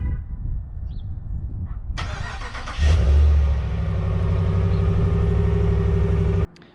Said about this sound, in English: That cold start, though, is definitely nicer than an EcoBoost.